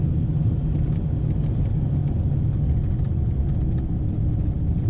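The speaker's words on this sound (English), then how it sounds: "I've definitely missed diesel trucks." A Ford F250 truck with a 6.0L diesel engine rumbles steadily and loudly from inside the cab, a constant deep drone without breaks or voices.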